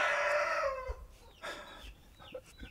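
A rooster crows loudly and close by in one long, drawn-out call, followed by a few softer trailing clucks and rustles, with no talking.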